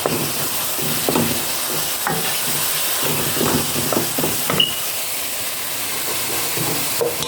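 Food simmering in a pan on a gas cooker at low heat, a steady soft hiss with faint bubbling pops and occasional small clinks, no talking.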